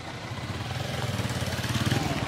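Motorcycle engine running close by, a fast pulsing putter that grows gradually louder and more pronounced over a couple of seconds, with a faint voice in the background.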